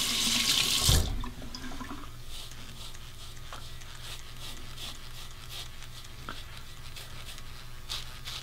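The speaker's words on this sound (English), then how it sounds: "Let's rinse." Gillette Fusion Proglide or Feather F3 razor rinsed under a running tap into a sink, a loud splashing gush at first, then a steady close stream of flowing water for several seconds.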